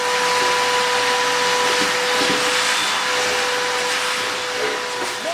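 A vacuum cleaner sucking up spiders roars steadily and loudly up close, a constant airy whine with a faint tonal hum running under it.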